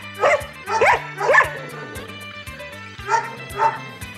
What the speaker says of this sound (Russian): Таким звонким лаем нас встречали жители приюта Хати.